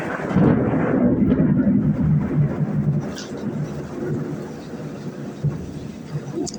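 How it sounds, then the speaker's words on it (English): Deep, rolling rumble of thunder amid steady rain, loudest at the start and easing into a lower continuous roar. "Bolts of lightning can be seen, and bolts of thunder can be heard."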